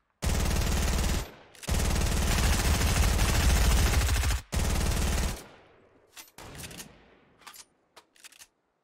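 Fortnite gunfire in a duo match: loud sustained bursts of automatic fire with brief gaps, tapering into scattered single shots toward the end.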